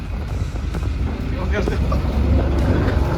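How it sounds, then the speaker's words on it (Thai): A steady low engine rumble from a river ferry crossing to Koh Kret, Nonthaburi, Thailand, with wind buffeting and faint voices in the background. "ตอนนี้เรือมารับแล้วนะครับ"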